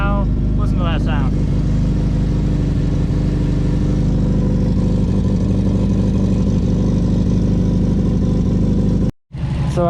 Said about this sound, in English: the car lives once again. The new motor, you can listen to it purr